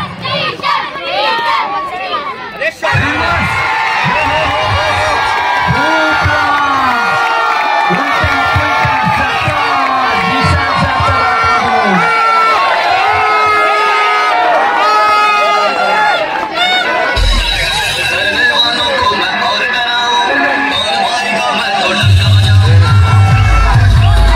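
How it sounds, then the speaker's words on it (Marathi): Spectators at a village cricket tournament shout, whoop and cheer loudly and continuously, with sustained crowd noise and a commentator talking over the din. "वरवटण्याच्या खेम्यामधून टाळ्या येतात"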